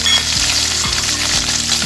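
Curry leaves and green chilies sizzle and spit in hot oil in a kadai, a steady loud frying hiss broken by a few stirring scrapes, with no voices.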